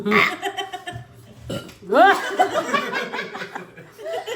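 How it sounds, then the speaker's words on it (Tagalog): Loud burps come between rounds of tequila and wine shots during a drinking challenge, with laughter and chuckling around them and voices close by. "Kada shot may burp."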